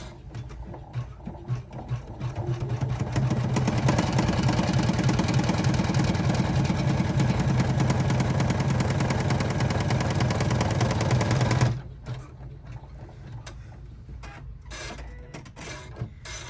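A sewing machine top stitches a Dolly Mini Rucksack with a steady, loud mechanical whirr that runs for about nine seconds after a slow start, then stops abruptly, leaving quiet handling sounds.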